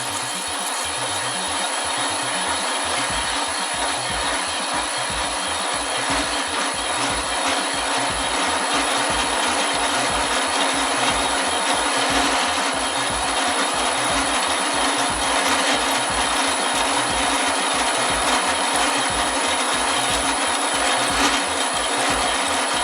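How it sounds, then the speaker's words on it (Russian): Lathe parting off a large-diameter steel blank, its spindle motor run from a new frequency drive at 6 Hz, giving a steady, loud grinding cut with a rapid low pulsing rumble throughout and no pauses. "Вот, сейчас я отрезаю, пробую на 6 герцах."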